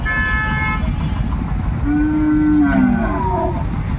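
Cows moo at a busy cattle market, a long, loud low call rising over the steady crowd din, with other bovine calls around it.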